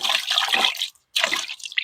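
Water splashes over equipment being rinsed outdoors, a short bright spray that stops briefly before a second burst of rinsing.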